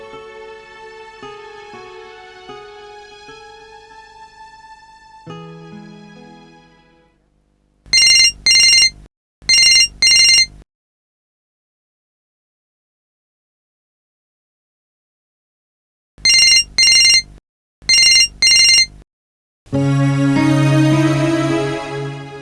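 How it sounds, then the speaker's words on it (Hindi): A phone ringtone melody plays, then several paired bursts of a loud electronic telephone ring repeat with long silent gaps, followed by another tone melody, with no one picking up. "बेल जा रही मगर कोई नहीं उठा रहा।"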